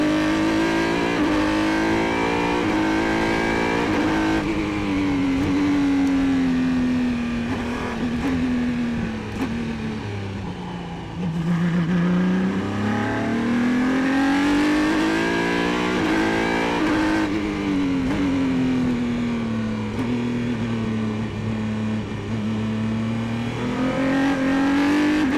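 Formula BOSS single-seater race cars lapping the national circuit at Mondello Park, Ireland, with a loud, steady engine drone rising and falling through gear changes and corners, no talk over it.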